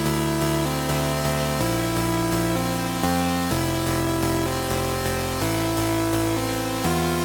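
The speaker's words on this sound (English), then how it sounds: "I just added this very simple melody made with this lead" A simple synth lead melody steps through sustained notes over a dense, loud mix with a distorted vocal sample phrase, forming a continuous angelcore-style loop with no pauses.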